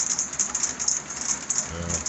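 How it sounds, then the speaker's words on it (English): Heavy rain falls at night in a steady, dense hiss with a thin metallic patter on top, continuous and close, with a low rumble coming in near the end. "it's raining hard enough tonight that wouldn't have been fun"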